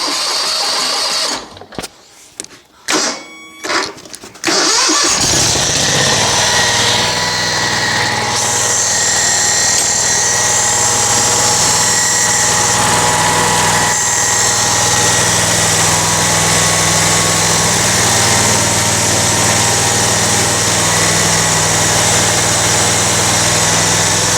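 A riding lawn mower with a freshly rebuilt hydro pump fires up after a few brief clatters, then settles into a loud, steady, buzzing idle that runs on without a break.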